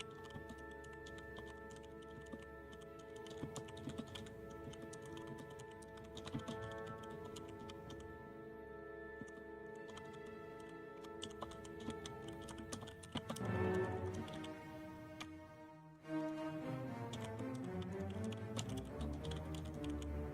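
A computer keyboard is typed on in a steady stream of light clicks over a sustained tonal musical backdrop, with a brief busier flurry near the end.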